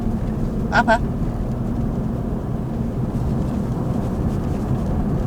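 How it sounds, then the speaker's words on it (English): A car engine idles steadily in the background while the occupants sit inside, a low continuous rumble running under brief talk throughout. "That's the sound of the car running."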